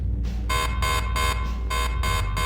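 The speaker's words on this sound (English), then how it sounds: "Defense alarm starts to go off, and Maverick checks on what that could be." A defense alarm goes off, a loud, harsh buzzing tone pulsing in rapid regular bursts with a steady low hum underneath, close and continuous throughout.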